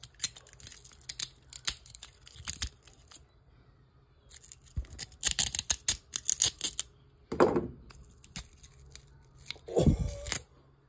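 Scissors cutting through the spider of a blown loudspeaker, heard as scattered sharp snips and crunchy clicks in short bursts, close by, with a few louder thuds mixed in.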